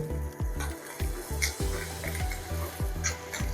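Onions fry in a pan for gongura pickle, giving a steady close sizzle broken by rhythmic scraping strokes of a spoon against the pan, roughly twice a second.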